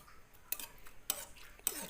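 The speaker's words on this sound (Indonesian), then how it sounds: "kita aduk-aduk terus ya, aduk terus sampai air ini agak mengering" A spoon stirring a peanut-scented fishing bait mixture in a pot, three sharp metallic scrapes and clinks spaced evenly, close and fairly quiet.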